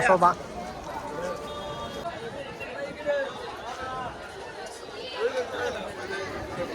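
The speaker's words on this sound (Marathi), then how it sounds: "जाम गर्दी आहे बघू शकता तुम्ही" Dense crowd chatter fills a busy temple fair at the Mhasa yatra in Murbad, a steady babble of many overlapping voices nearby with a few louder shouts.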